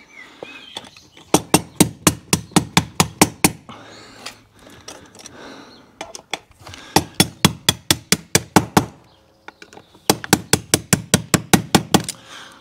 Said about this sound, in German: Wahrscheinlich brauche ich noch einen Gummihammer gleich, um das hier ein bisschen mit Gewalt reinzuhauen.